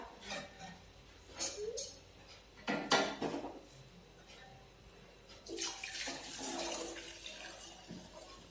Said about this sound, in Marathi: आपण यामध्ये गरम केलेलं पाणी टाकूया.